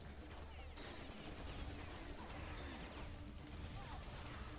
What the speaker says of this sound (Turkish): Füze attım boss'a.